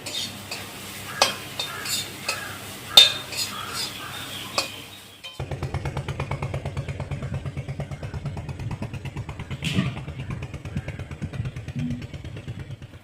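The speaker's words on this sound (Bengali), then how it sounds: "বন্ধুরা গম শাকটা লাল লাল করে ভেজে নিচ্ছি" Wheat greens frying in a pan until reddish, starting with sharp clinks of a utensil scraping and stirring, then a steady pulsing sizzle that runs on for several seconds with one louder scrape midway.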